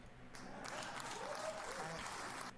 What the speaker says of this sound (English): Quit cheering.